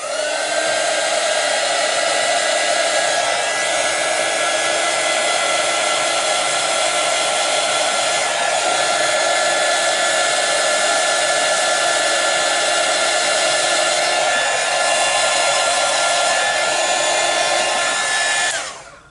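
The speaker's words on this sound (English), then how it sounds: "Bring out the heat gun." A heat gun blows steadily on a colouring page, a loud continuous whirring roar with a high whine that holds for almost twenty seconds before cutting off at the end.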